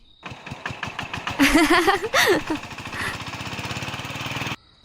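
A voice imitates a shallow irrigation pump engine, sputtering into a rough, rhythmic chugging that rises in pitch, then settles into a steady putter before stopping abruptly.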